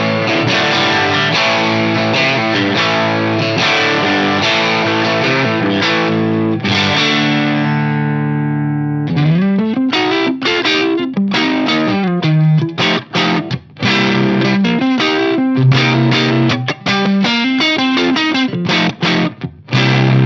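Electric guitar played through a Mesa/Boogie FormulaPre preamp with the pull boost engaged, giving a loud, lower-gain bluesy overdriven tone. Sustained chords ring out, then a choppy, rhythmic run of picked notes and riffs follows without a break.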